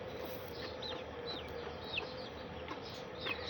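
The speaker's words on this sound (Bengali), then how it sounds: "দেখুন আমি এখন আদা দিব, দেখবেন 10টা মুরগির বাচ্চা কি সুন্দর কে যা খায়" Chicks being fed ginger peep and cluck in short, high chirps scattered over a steady background hum, fairly close and moderately loud.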